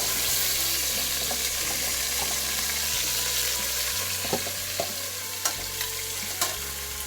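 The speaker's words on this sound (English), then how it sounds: "in goes the beef" Beef cuts for adobo fry in a pan with a steady, close sizzle, and a few sharp clinks and scrapes of stirring punctuate the second half.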